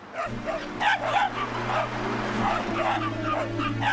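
A young dog barks and yips in short repeated bursts, close and moderately loud, over a steady low engine-like hum, with voices speaking around it.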